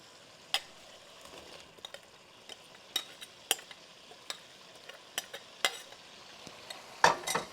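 Fish frying in boiling oil: oil sizzles softly under a steady hiss while utensils clink and scrape now and then, with a sharper clatter near the end.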